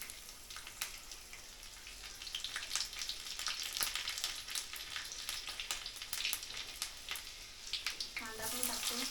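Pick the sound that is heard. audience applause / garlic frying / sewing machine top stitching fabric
garlic frying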